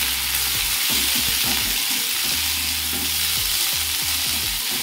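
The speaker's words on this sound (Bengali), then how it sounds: "এবার এগুলোকে ভালো করে একটু নাড়ব।" Red amaranth stems fry in a little oil in a pan with a loud, continuous sizzle, while a spatula scrapes and knocks in an irregular stirring rhythm close by.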